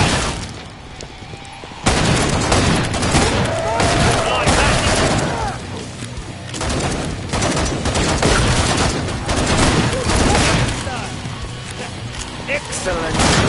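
Rapid bursts of gunfire and booming explosions from the video game Killing Floor 2 rattle almost nonstop, loud and dense after a quieter opening, with a voice speaking over the shooting.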